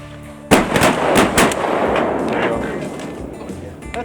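Shotgun blasts ring out during a waterfowl hunt in Arkansas flooded timber, fired from a blind: a loud volley of several close shots in quick succession, with voices talking and calling throughout.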